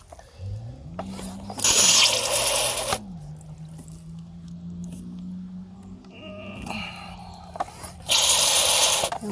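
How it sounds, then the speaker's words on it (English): Water forced out of a cabin's plumbing as the system is hand-pumped up toward 15 psi, heard as two loud rushing bursts of spraying water separated by quieter stretches with a low steady hum underneath. "And as I'm pumping it, it's already pushing water out."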